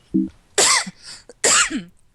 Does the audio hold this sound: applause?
no